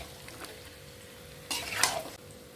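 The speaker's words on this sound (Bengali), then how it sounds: "একটু কাশ্মীরি লঙ্কার গুঁড়ো দিলাম দিয়ে ভালো করে মিশিয়ে নেব" Chicken chap with Kashmiri chili powder is stirred in a pan, giving a low sizzle and one brief, louder scrape of the spoon, close and short.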